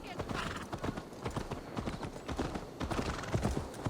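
Horse hooves clip-clop steadily in Assassin's Creed Valhalla, a brisk rhythmic run of close hoofbeats under a speaking voice.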